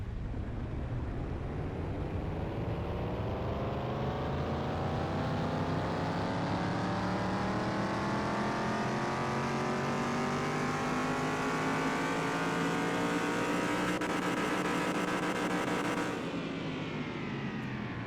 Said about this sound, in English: Love that sound.